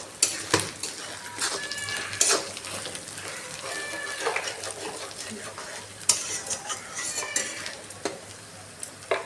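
Ginger and garlic sautéing in a pan with Kashmiri chili powder and coriander powder for an Orissa-style chicken curry, with a steady close sizzle and repeated scraping, stirring clinks of a spoon against the pot.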